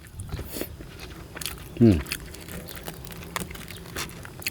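Crispy roasted field rat skin bitten once with a single sharp crunch midway, set against low background noise and faint talk.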